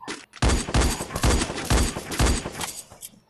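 Gunfire in the mobile shooter game Free Fire: a rapid burst of about eight loud, close shots in quick rhythm, with no talk over them.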